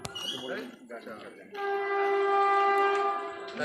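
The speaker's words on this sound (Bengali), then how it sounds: "ট্রেনটা চলে যান" A train rumbles past with a long, loud horn blast holding steady, after a few seconds of background voices and noise.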